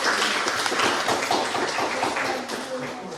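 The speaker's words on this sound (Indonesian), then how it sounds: "Oke, tepuk tangan kita semua." A class of high school students clapping their hands together in a dense, continuous patter that fills the room for several seconds before tapering slightly.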